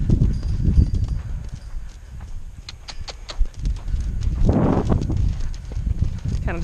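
A weanling colt's hooves moving around a dirt round pen: repeated soft thuds and scuffs at an uneven gait, fairly close, with a voice talking over them.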